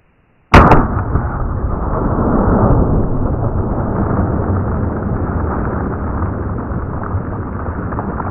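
A single loud gunshot from a 10mm Underwood round fired into water jugs, a sharp crack followed by a long rumbling decay and splashing roar that lingers for several seconds.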